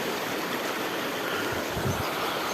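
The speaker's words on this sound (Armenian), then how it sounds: "Այս գետակի ձայնը" A small woodland stream near two little ponds flows with a steady, soft rushing hiss, constant and fairly close, with no other sounds breaking through.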